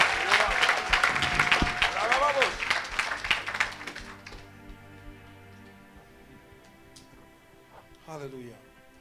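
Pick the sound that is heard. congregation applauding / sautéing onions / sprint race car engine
congregation applauding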